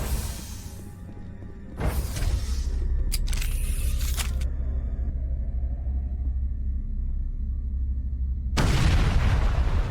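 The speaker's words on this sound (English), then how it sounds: "It sounded like a broken pressure vessel." In the Mass Effect video game, a broken pressure vessel bursts with a loud, sustained hissing roar that begins abruptly, cuts out briefly, then surges again near the end.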